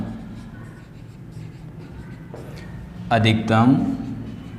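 Marker or chalk scratching on a board during a probability lesson, steady strokes close by, with a brief burst of speech-like voice near the end.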